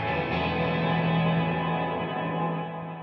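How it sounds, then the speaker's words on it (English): Sustained guitar chord washed in dense, warm ambient reverb from an MXR M300 reverb pedal, ringing on at steady volume and slowly fading toward the end, with no voices. "a cool part about this pedal is you can do those nice warm ambient tones"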